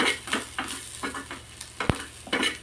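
Roasted masala is stirred in a pan with a spoon, giving repeated close scraping strokes in an uneven rhythm over a light sizzle, with one sharp metallic knock partway through.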